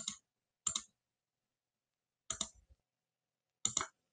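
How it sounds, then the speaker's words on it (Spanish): Computer mouse clicks in pattern-making software, four crisp isolated clicks spaced unevenly across a few seconds, close and clean against silence. "para lo que es el delantero, un clic y un clic afuera"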